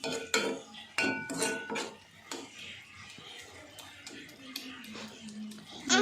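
A metal spoon scrapes and clinks against a wok while cooked fish with semolina and vegetables is lifted out. Several sharp clanks are followed by softer scraping, close by, with faint voices in the background.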